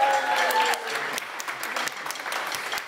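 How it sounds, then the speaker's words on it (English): An audience at the DaDaFest Scratch event applauds the BSL signer with scattered clapping that thins toward the end, while a voice talks over the start. "So can we have a quick round of applause for our signer?"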